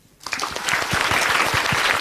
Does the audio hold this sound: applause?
yes